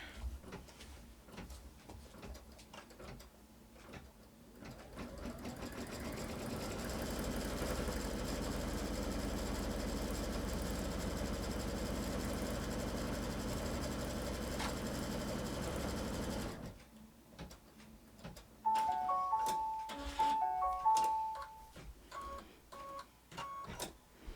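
An embroidery sewing machine stitches a quilt block in the hoop, a steady, close mechanical whir that runs for about ten seconds, followed by clicks, beeps and handling sounds as it stops.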